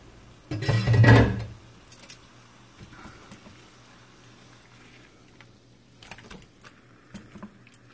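Food flipped over on a double burner grill pan gives a single loud clattering scrape and sizzle burst near the start, followed by faint scattered clinks and light taps over a quiet background.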